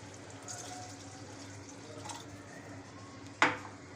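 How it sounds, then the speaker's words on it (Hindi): Water trickles faintly into a pan of kofta curry gravy made with leftover-roti nargisi koftas. The soft liquid patter is capped by one short, sharper splash near the end. "इस ग्रेवी में हम तकरीबन आधा गिलास पानी ऐड करेंगे।"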